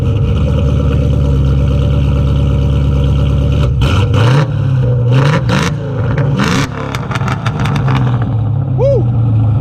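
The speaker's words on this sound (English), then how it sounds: "The exhaust on this thing is stock exhaust manifolds with Pro Chamber H-pipe and SLP Loudmouth 1 catback" A car with stock exhaust manifolds, a Pro Chamber H-pipe and an SLP Loudmouth 1 catback rumbles loudly at a steady idle, then revs up in several rising surges before settling back, close to the microphone.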